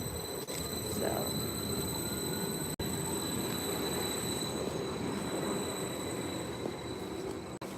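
A train moves through a station across the street from a house. A continuous distant rumble carries thin, high wheel squeals throughout.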